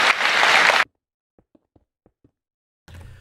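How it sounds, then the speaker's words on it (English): A short burst of audience applause cuts off abruptly, followed by silence and a few faint, scattered taps. "Let's give him a round of applause."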